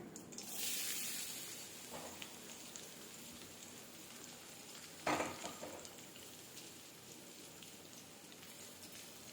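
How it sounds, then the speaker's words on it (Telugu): Chopped shallots frying with cumin seeds in hot oil while making spinach aloo paratha, giving a steady close sizzle with a louder burst around the middle as more goes into the pan. "చిన్నులపాయని ఫ్రై అవనిద్దామండి"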